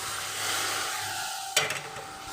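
Peas tipped into keema frying in a pan, a close burst of sizzle and clatter cutting in about two-thirds through a steady low frying hiss.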